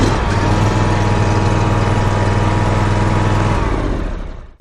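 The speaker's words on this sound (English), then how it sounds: "You're going to turn the key all the way over to start, and right after the engine starts, we're going to push that choke off." A Cub Cadet RZT LX46 zero-turn mower engine runs loud and steady at close range, then cuts out abruptly near the end.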